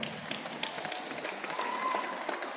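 A crowd applauds a Rebana group with dense, continuous clapping that sounds close and fairly loud and holds steady throughout.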